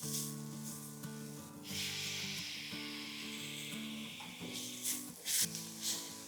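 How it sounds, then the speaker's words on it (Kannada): Tomatoes fry in a hot pan for masala cheese pav, a steady soft sizzle with occasional stirring scrapes and clinks toward the end, close and moderately quiet, with no talking. "ಟೊಮೆಟೊ ಎಲ್ಲ ಒಂದು ಸ್ವಲ್ಪ ಮೆತ್ತಗಾಗೋವರೆಗೂ ಫ್ರೈ ಮಾಡೋಣ ಇದನ್ನು"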